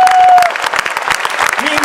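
An audience at a company birthday celebration breaks into loud, dense applause, steady clapping filling the hall with a voice speaking over it.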